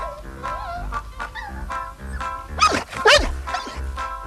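A dog gives a run of short whines and yips, then a couple of louder, sharper barks near the end, close by.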